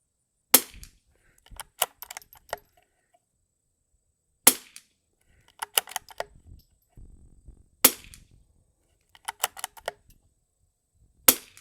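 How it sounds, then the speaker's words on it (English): Vintage rimfire rifle shots at a rimfire challenge: three sharp, loud cracks spaced a few seconds apart, each followed by a cluster of metallic clicks and clacks from working the action, outdoors. "I ain't gonna do nothing but shoot"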